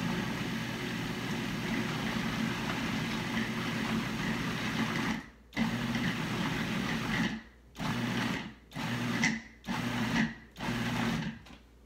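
Food processor motor whirs as it mixes brownie batter, first a long steady run and then a series of short pulses with clear stops between them.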